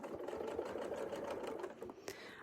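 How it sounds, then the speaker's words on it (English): Sewing machine stitching quilt squares with a Westalee Gateway Flying Squares ruler setup: a fast, steady mechanical whir of stitching at close range, ending with a brief sharper click near the end. "we can just sew right up to the next one"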